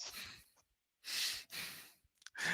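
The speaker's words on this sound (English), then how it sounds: "The deep breathing." Deep, slow breaths drawn in and let out close to the microphone, three broad airy swells with short pauses between them, no other sound around.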